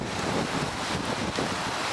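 Strong wind gusts across Hotel Plaza Boulevard at Walt Disney World, a loud, steady roar buffeting the microphone with surging swells and no voices.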